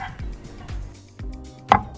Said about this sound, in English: I carefully cut the banana with a knife into thin plates.